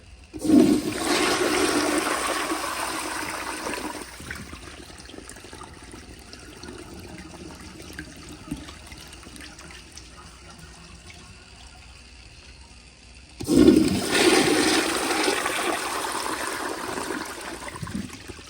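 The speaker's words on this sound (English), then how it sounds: "Here is another flush, but with full pressure." A 1951 Crane Neuday toilet on a flushometer flushes at full pressure in two loud rushing bursts, each fading into a long, steadier trickle of refilling water, heard close and alone.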